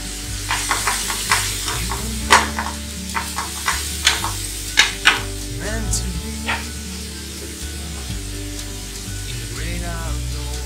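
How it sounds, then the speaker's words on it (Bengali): Ground chilli, turmeric and cumin paste fry in a pan while being stirred. A continuous sizzle sits under intermittent scraping and knocking of a spoon against the pan, with a low hum in the background. "এখন মশলাটা ভালো করে কষিয়ে নেব"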